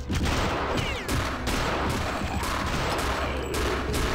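Rapid gunfire in the World War II shooter Return to Castle Wolfenstein, played in co-op: dense, loud volleys of shots crackle continuously with hardly a pause, like a sustained firefight close at hand.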